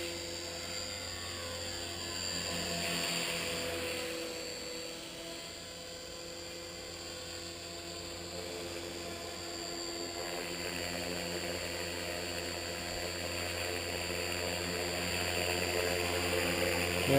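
An upgraded EXI 450 Pro RC helicopter hovers and flies nearby, its high rotor whine and buzzing drone humming steadily with gentle rises and dips in pitch and loudness, alone without voices.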